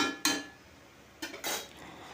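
Pumpkin curry (kumro shukto) stirred with salt in a pot: two or three brief clinks and scrapes of a utensil against the metal, near and fairly faint, separated by quiet gaps.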